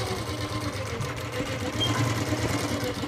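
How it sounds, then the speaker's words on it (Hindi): A sewing machine runs steadily and close up, stitching a frock-style kurti with a continuous rhythmic whirring and needle chatter that never pauses. "अब देखिए मैं सिलाई किस तरीके से निकालूंगा धीरे धीरे निशान पर इस तरीके से आएगी"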